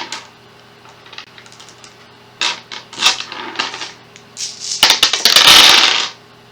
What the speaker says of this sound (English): 12 dice attack, hitting on 5s.